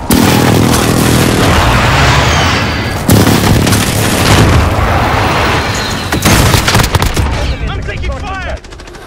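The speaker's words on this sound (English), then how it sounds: "Friendly precision airstrike on the way." In Call of Duty: Modern Warfare, a precision airstrike brings repeated heavy explosions that blend into a dense, continuous roar of blasts and gunfire over several seconds. A brief voice is heard near the end as the barrage eases.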